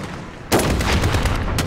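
Gunfire from the Call of Duty: Modern Warfare campaign, sustained dense bursts of game shooting that start abruptly after a short quiet moment and run loudly to the end, with no talk over them.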